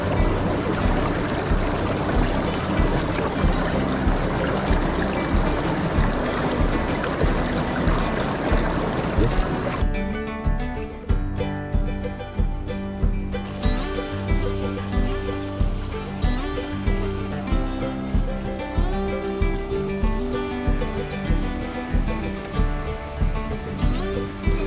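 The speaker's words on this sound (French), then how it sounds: "nous voici sur une nouvelle cascade là" Waterfall cascade on a trout stream, a loud steady rush of falling water that fills the whole stretch without pause and stays close.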